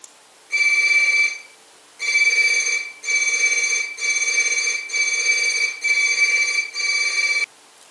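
A harmonic electronic tone travels over an infrared link from photodiode to loudspeaker, sounding in a run of sustained bursts separated by brief gaps, bright, buzzy and slightly degraded.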